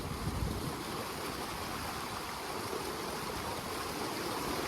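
A cold river rushes past during a wading crossing on a Kedarnath and Yamunotri trip, a close, continuous broadband wash of flowing water with no voices.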